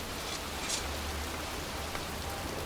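Steady rain in the Heavy Rain video game, set in a cemetery, falls in a dense, even hiss of drops pattering on surfaces, continuous and fairly close with no voices.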